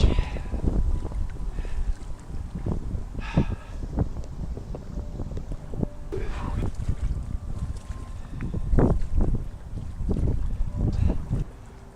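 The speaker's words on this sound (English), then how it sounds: "It's quite breezy out here." Gusty wind buffeting the microphone outdoors on the flooded Chattahoochee River from a kayak, a steady rumbling roar with stronger gusts throughout.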